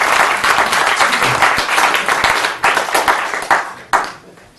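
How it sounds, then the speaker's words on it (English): An audience applauds a stage hypnosis volunteer returning to his seat, a dense, steady wash of many hands clapping that thins into scattered claps and fades at the end. "Give this gentleman a round of applause as he goes back to the audience"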